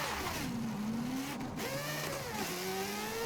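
A dirt-racing car in Forza Horizon 5, driven in manual with clutch, revs loudly with wavering pitch that climbs, drops and climbs again over a few seconds, continuous and close.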